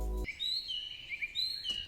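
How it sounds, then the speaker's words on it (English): Forest birds sing outdoors in quiet nature, with high bright chirps and short whistled phrases that repeat over soft background hush. A brief low thud opens the passage, and no one speaks. "So right here I've got forest birds singing, nature, quiet, relax"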